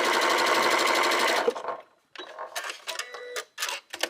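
A domestic sewing machine stitches a test seam while quilting: a steady, close mechanical whir for about a second and a half, then several short start-stop bursts of stitching.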